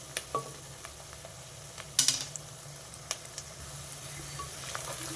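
Onions frying in a pan as the base for a cauliflower and green peas masala curry. A faint, steady sizzle runs throughout, broken by a few sharp clinks and scrapes of stirring, with no voices.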